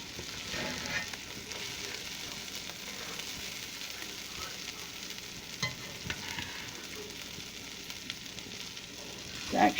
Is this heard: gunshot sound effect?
no